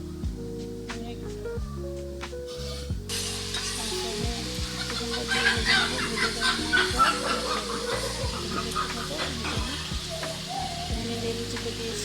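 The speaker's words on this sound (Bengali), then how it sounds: "চিকেনটা দেওয়ার পর একটু ভেজে নেব।" Chicken pieces sizzling and frying in hot oil with already-fried onion in a pan, with repeated stirring scrapes and clatter of a spoon against the pan throughout; the sizzle swells louder midway.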